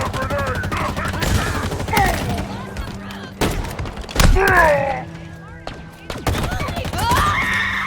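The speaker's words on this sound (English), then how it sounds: "He threw a grenade." A grenade blast lands among Halo Infinite campaign combat, giving heavy thuds amid scattered gunfire. Growling alien voices and spoken lines run throughout.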